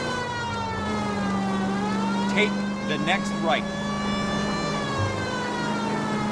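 Police car siren in the LA Noire video game, a steady wailing tone held loud and continuous throughout, with engine noise beneath and a voice speaking briefly over it.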